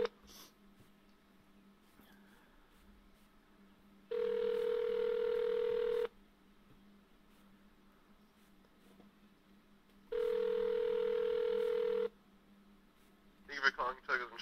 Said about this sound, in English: we're gonna go ahead and call the right number here